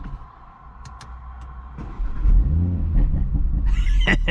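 An Audi RS3 engine starting up, a quiet idle hum then a sudden loud crank and rumbling catch at about two seconds, settling into a rough, revving idle up close.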